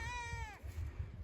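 A single sheep bleats once near Hadrian's Wall at Birdoswald Roman Fort in Cumbria, a short wavering cry over an outdoor rumble of wind before fading into the background.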